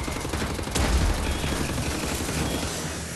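Gunfire in Wolfenstein: The New Order, a dense, continuous roar of battle noise with one sharp, loud crack standing out early on, close and overwhelming throughout.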